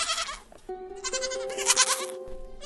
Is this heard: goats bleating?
yes